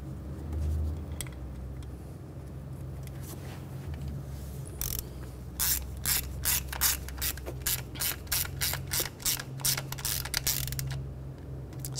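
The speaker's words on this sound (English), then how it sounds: "Take the screws, get the screws started." A hand ratchet clicks rapidly and steadily while tightening the ignition coil screws on a 2004-2009 Audi A4 Quattro 2.0L four-cylinder, close and clear over a low background hum.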